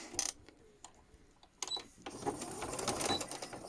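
A sewing machine stitches a fabric seam for a clear-window face mask, starting with a few short bursts and clicks, then running in a steady, close whir to the end.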